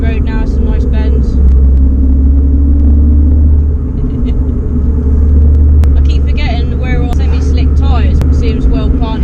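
A modified Renault Clio 182 driving along a bendy country road, its engine a steady loud low rumble throughout with road and cabin noise, while someone talks over it.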